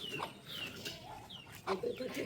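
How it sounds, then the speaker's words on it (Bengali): A mother hen clucks softly in a rural yard, a few short, faint calls scattered through the moment, with low background noise. "এই যে এইটা হচ্ছে গিয়া মুরগির মা"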